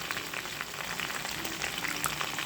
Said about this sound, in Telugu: ఇలా పచ్చిమిర్చి, కరివేపాకు కాస్త వేగిన తర్వాత